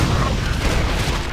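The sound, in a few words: triple explosion attack in Torchlight II video game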